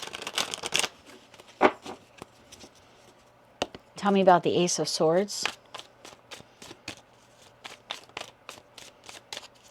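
Tarot cards being shuffled up close in bursts of rapid riffling and scattered crisp taps, with one loud fluttering run in the middle; a voice speaks briefly at the start.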